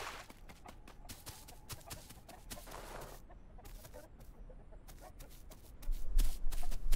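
Chickens cluck in The Isle, several short calls scattered across the stretch and heard faintly amid rustling game ambience.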